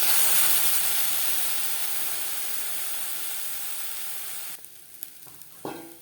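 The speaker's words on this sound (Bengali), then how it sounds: "এভাবে একটু জল ছিটিয়ে দেবো।" Water is sprinkled onto a hot pan over a low gas flame while chitoi pitha cooks. A loud, steady sizzle and hiss fills the air, then drops away sharply near the end, leaving a few faint clicks and a clatter.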